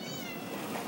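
A single short cat meow, fairly close, heard over a steady background hum.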